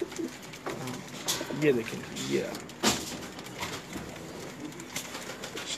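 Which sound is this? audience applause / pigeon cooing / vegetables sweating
pigeon cooing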